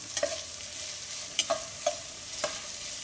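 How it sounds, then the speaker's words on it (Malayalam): Onions, green chillies, ginger and garlic stirred in a pan for a beef curry: four or five quick scraping strokes of a spoon over a soft frying sizzle. "നല്ലതുപോലെ ഇളക്കി കൊടുക്കണം."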